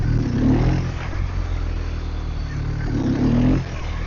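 A motorcycle engine revs in the clutch friction zone, giving two short swells of throttle about three seconds apart over a steady, close idle rumble.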